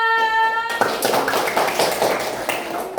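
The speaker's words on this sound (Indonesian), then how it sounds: "Tepuk tangan semua." Children in a classroom clap their hands together in a burst of quick, uneven claps after a short sung phrase, close and lively.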